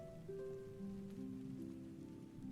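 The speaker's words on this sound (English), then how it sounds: "Let's fall asleep to the sound of the rain" Steady rain falls at night, a soft continuous patter heard alone at low volume, with faint tonal hum lines running beneath the wash of drops.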